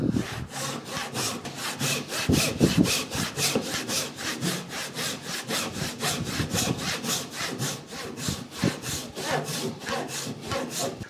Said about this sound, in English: Saw's making short work of this.